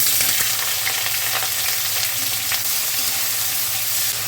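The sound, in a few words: onion and nigella seeds frying in mustard oil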